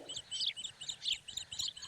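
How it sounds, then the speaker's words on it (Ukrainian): Birds sing in short, bright chirping phrases that repeat rhythmically, fairly faint and heard alone in a quiet outdoor setting. "А хто ж так гарно співає? Так, це пташки повертаються."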